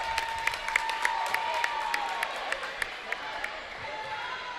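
A crowd at a high school basketball game applauds and cheers in a packed gym, with rhythmic clapping, sharp repeated squeaks or whistles, and a commentator talking over it.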